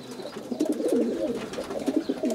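Racing pigeons coo steadily in a loft in Prahova, Romania, a dense overlapping chorus of soft rolling coos from several birds, close and continuous.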